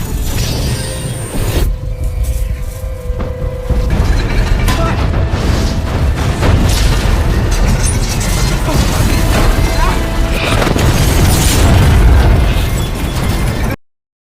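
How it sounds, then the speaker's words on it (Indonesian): A gas pipe explosion in a film, heavy blasts with sustained rumbling booms and crashing debris, loud and chaotic, mixed with intense background noise. "Tiba-tiba ledakan pipa mengarah kepada mereka."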